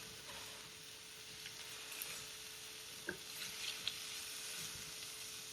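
Swordfish searing in a hot pan with onions and hot peppers, a steady, quiet sizzle with a few faint clicks and knocks, nobody talking.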